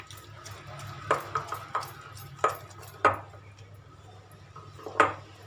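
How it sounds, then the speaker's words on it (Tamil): Melted chocolate and butter stirred into coffee powder and sugar in a bowl, with scattered sharp utensil clinks and scrapes against the bowl over a low hum, spaced irregularly and fairly close. "இப்போ இதில் நம்ம மெல்ட் பண்ண சாக்லேட்டும் பட்டரும் போட்டுடலாம். நல்லா மிக்ஸ் பண்ணிக்கோங்க."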